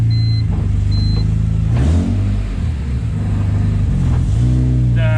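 A BMW E30 fitted with an S54 engine pulls hard at full throttle in third gear, a loud sustained engine drone with rising harmonics and a brief dip near the middle before climbing again.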